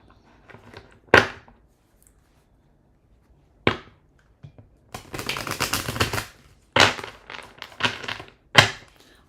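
Tarot cards being shuffled by hand: scattered soft taps and slaps, then a longer papery riffle followed by a few quick shuffling bursts, close and fairly quiet in an otherwise still room.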